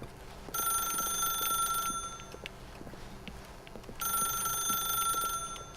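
A telephone rings in The Stanley Parable, two long bursts of bright electronic trilling separated by a quiet pause, heard close and clear over a faint background hum.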